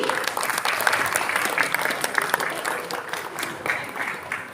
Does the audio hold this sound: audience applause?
yes